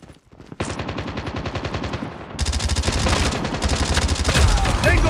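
Rapid automatic gunfire in Call of Duty Mobile, loud sustained bursts of shots that intensify midway, with heavy game effects layered over them.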